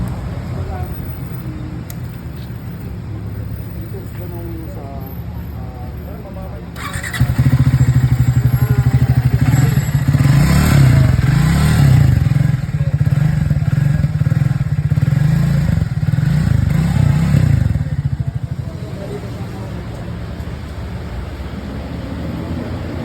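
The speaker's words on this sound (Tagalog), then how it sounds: "For the first bike, Joms will be test riding the Speed 400." Triumph Speed 400 motorcycle on a demo-day test ride, its engine droning at low idle before rising sharply into a loud, sustained revving pull, then dropping back as it moves away.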